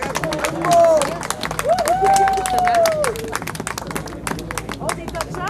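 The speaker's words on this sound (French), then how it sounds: "Une bonne main d'applaudissements pour Claudia et Jonathan" An audience applauds Claudia and Jonathan after a charity head-shaving event for Leucan, with a burst of clapping and cheering mixed with lively crowd chatter and a rising whistle-like voice, sustained across the clip.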